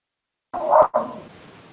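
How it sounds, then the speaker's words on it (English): A dog gives two quick barks, close and fairly loud, then a short trailing whine into quiet. "That's what he's barking at."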